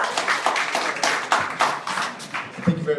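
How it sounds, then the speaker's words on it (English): Audience clapping at a political meet-and-greet for a circuit court judge candidate, a sparse, uneven patter of hands that swells and thins over a few seconds, with a few sharper individual claps near the end. "Y'all give him a round of applause, make some noise for him,"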